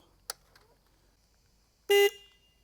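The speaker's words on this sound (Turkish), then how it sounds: "Dur kornaya da basalım." A single loud, bright horn blast from a 2024 Husqvarna Svartpilen 250 motorcycle, lasting about a fifth of a second, preceded by a faint click, otherwise quiet surroundings.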